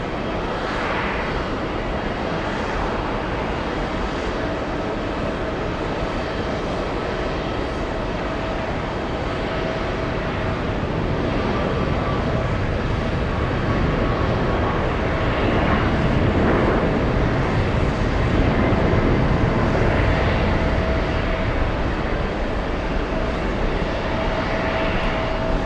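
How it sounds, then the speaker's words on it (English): An airliner bound for Georgetown, Guyana rolls for takeoff at JFK airport, its engines a loud, steady roar that swells gradually over nearly half a minute with no talk over it. "We have one rolling for takeoff."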